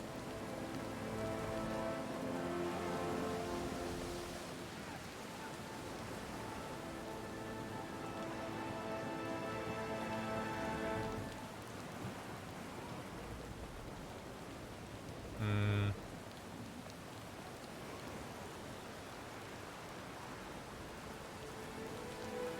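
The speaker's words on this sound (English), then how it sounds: "rain pours from the sky as if the Defiant had come to rest beneath a waterfall. Rainwater sloshes over the deck and under the rails" Heavy rain pours steadily onto the deck of a sailing ship in the Pillars of Eternity II: Deadfire video game, a dense continuous roar of water with a low tonal music bed underneath and one brief louder burst near the end.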